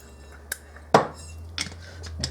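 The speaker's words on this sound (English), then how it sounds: "when Nana puts the cup of oil in, I'll keep on stirring" Kitchen work on pumpkin muffin batter: oil is added and a utensil knocks and scrapes against the mixing bowl, with scattered clinks over a low hum.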